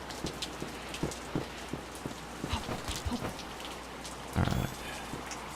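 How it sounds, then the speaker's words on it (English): Rain falling in the video game Peripeteia, a steady patter of drops on surfaces with scattered heavier taps and a brief louder splash cluster, no talking. "we're in the rain like this"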